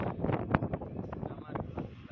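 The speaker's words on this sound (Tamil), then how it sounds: "காற்று எப்படி அடிக்குது தெரியுங்களா." Steady wind gusts rush across the microphone outdoors in Bangalore, with a person talking over the blustery noise throughout.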